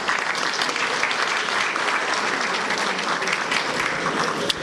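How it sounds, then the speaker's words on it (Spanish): An audience at an international symposium on ethics in clinical trials claps steadily for an introduced guest, a dense, sustained round of applause from a full room, loud and continuous. "Un aplauso, por favor."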